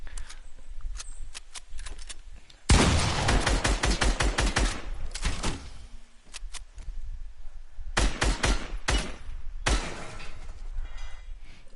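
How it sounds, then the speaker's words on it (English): Gunfire in Fortnite: a single sharp shotgun blast, then a rapid string of close, loud shots. After a pause comes another shotgun blast and a further burst of shots, with quieter gaps between the volleys. "A shotgun shot plus several shots."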